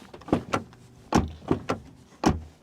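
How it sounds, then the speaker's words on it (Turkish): Doors on a Subaru Outback are worked several times, giving a series of sharp thuds and clunks in quick pairs, fairly close and loud, with no talking. "Kapı hissiyatı çok muazzam değil. Kapılar da çok kalın değil."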